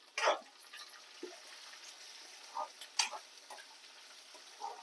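Dried red chilies fry in a pan for a ridge gourd chutney, giving scattered crackles and pops over a soft steady sizzle, with no talk.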